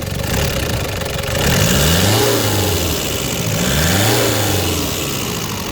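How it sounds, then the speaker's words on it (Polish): A warm Toyota Land Cruiser engine with around 110,000 km is revved twice from a steady idle, each time rising smoothly and then falling back, close and fairly loud, with no talking. "Jest jedwabista praca tego silnika."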